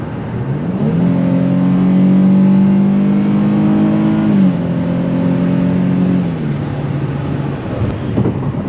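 A Dodge Challenger SXT AWD with an 8-speed automatic accelerating down the road; the engine note climbs loud and close, then levels off and eases as it cruises, with no speech over it.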